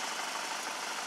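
UAZ engine idling with a steady, even broadband hum, moderately faint and unbroken, with no voices over it.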